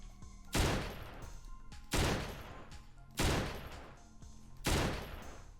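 Four sharp gunshot blasts from an HK PSG1 rifle in the video game Blockade 3D, at a steady, evenly spaced rhythm, each followed by a fading rumbling tail, without any voices.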